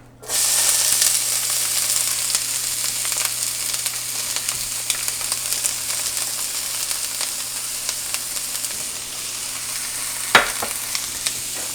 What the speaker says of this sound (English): So I need a little oil, and I'm going to add my green pepper